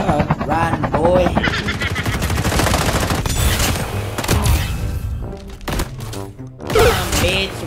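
Rapid automatic gunfire crackles almost without pause in a Call of Duty Mobile battle royale match, dense loud bursts and single shots layered over game effects, with a player shouting over the action.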